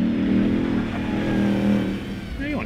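A Nissan 200SX S13 drift car with a 2JZ engine revving hard on track, a loud, close, rough engine roar that swells and eases as the throttle is worked.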